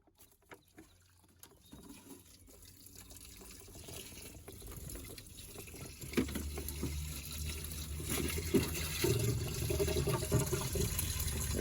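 Coolant from a Jeep Chrysler hose draining into a bucket, a faint patter that swells into a steadier liquid splashing and gurgling, close by with no talk.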